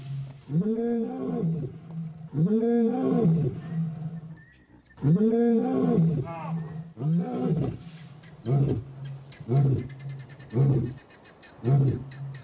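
Lions roar in repeated deep, rhythmic bursts, followed by a series of shorter grunting calls, close and loud.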